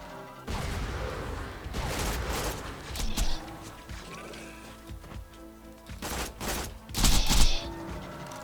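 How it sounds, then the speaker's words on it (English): Sandhawk gun in Borderlands 3 firing fast bursts, a string of rapid crackling volleys layered with loud impacts and explosions, with the bursts swelling near the end amid chaotic combat. "Nice to be able to get those fast bursts off with the Sandhawk with that extra fire rate"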